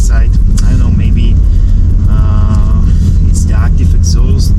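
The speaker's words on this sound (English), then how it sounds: "The first thing I noticed, the M4 kind of sounds deeper inside." A 2021 BMW M4 Competition G82 with its active exhaust, heard from inside the cabin on a track day, gives a loud, continuous deep engine and exhaust drone that rises and falls through gear changes.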